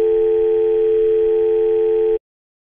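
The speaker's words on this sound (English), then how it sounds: "how did you dial our number?" A steady, loud telephone dial tone in an animated series, a continuous hum lasting about two seconds before cutting off abruptly into silence.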